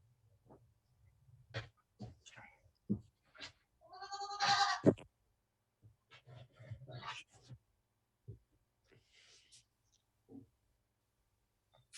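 A sheep bleats once, a short wavering cry heard faintly over a quiet conference call, with soft scattered voices and line noise before and after.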